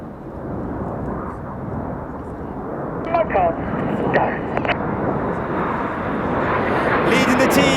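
Red Arrows display jets fly in Concorde formation at a motorsport festival, their engines a broad, roaring rumble that builds toward the end, heard under a commentator's voice.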